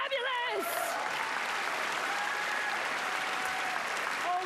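Audience applause fills a ballroom at the Golden Globe Awards ceremony, steady and dense for the whole stretch, with a voice briefly audible at the start and end.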